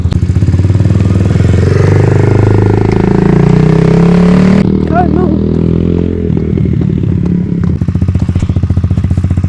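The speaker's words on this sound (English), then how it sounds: "Let's see how she sounds if one were to drive by you, and let's show you some speed" KAYO TD 110 EFI dirt bike engine roaring loudly up close, then dropping in pitch as it passes and pulls away, with a buzzy single-cylinder rattle continuing in the distance.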